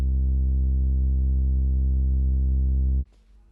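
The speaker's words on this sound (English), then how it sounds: "Whenever you're using a sine wave for a sub-bass, you can add a second low-pass filtered oscillator playing something like a saw or a square" A deep sine wave sub-bass layered with a low-pass filtered saw oscillator holds a loud, steady, buzzing low note for about three seconds, then cuts off abruptly into near silence.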